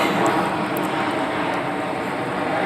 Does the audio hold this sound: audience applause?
no